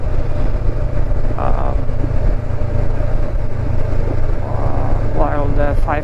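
A Honda CB500X motorcycle engine runs steadily while riding through Dartmoor National Park, a smooth, continuous low drone near the rider under wind, with a voice talking over it.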